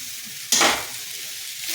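Soya chunks roast and get stirred in a hot pan, with a sudden burst of loud sizzling and scraping over a quieter, steady frying hiss.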